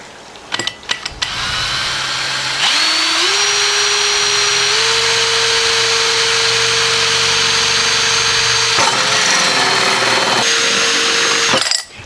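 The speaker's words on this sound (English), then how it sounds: "So let's drill the hole, and I'm going to drill it kind of off center because we're going to need to stake this tomato up as it grows." A power drill with a hole saw bores a 1 3/4 inch hole through a plastic bucket lid, cutting with a steady, loud whine for about nine seconds, then a short pause and a second burst before it stops.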